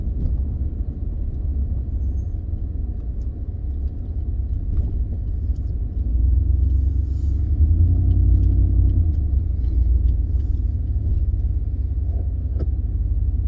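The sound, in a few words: 2015 Ford F-150 5.0 truck driving around the block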